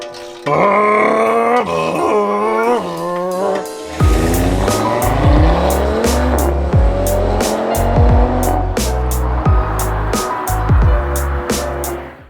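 An Audi RS3 exhaust before its Stage 1 downpipe and midpipe upgrade, played back from a recording: loud revving with rising and falling engine tones and sharp bursts. A voice-like groan comes at the start.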